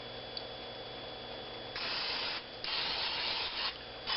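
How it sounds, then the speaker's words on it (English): Cooking spray hisses from a can into a muffin tin in several short bursts, faint and close, with quiet pauses between them. "Next thing we want to do is spray each muffins tin here."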